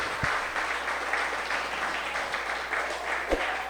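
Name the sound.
applause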